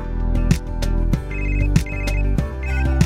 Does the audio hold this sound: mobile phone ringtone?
yes